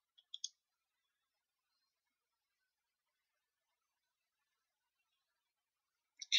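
Computer mouse clicks while saving a product entry in an online store admin page: a few crisp, faint clicks near the start and another pair at the end, separated by near silence.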